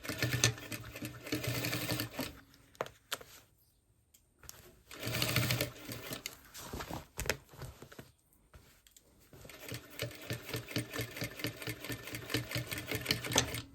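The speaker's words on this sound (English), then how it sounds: "just gonna top stitch" A sewing machine runs in steady rhythmic bursts, top stitching a garment, loud and close, stopping twice for short pauses before whirring on again.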